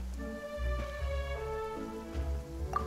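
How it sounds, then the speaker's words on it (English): A rain downpour in the Genshin Impact video game hisses steadily and softly beneath sustained musical tones, with no talking. "Yet today, the downpour arrived on schedule."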